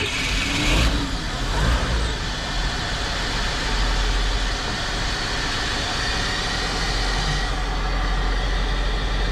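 Car engine of a '58 runs and revs nearby, a loud rough idle with a quick rev burst early on, then settling into a steady throbbing rumble.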